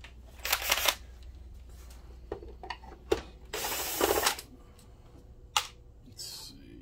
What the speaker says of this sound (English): Take the screws out of the bottom.